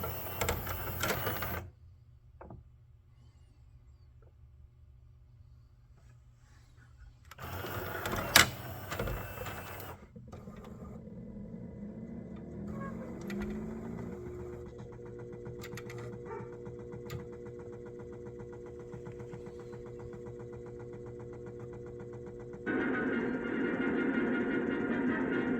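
A CED player motor runs with 3D printed prototype parts fitted, failing to brake properly: mechanical clunks and whirring bursts, then a steady motor hum with rattling that grows louder toward the end, close and without talk.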